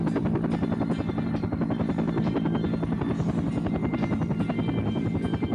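Helicopters in the video game Air Conflicts: Vietnam beat with rapid, steady rotor chop and engine buzz, loud and continuous throughout.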